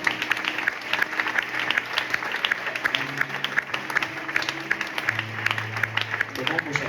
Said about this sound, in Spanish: ¿Puedes dar un fuerte aplauso?